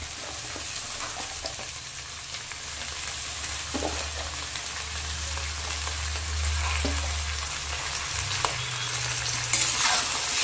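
Dhekia fern greens fry with potatoes in a pan, giving a steady, close sizzle that runs unbroken throughout, with a low hum underneath and a few faint stirring clicks.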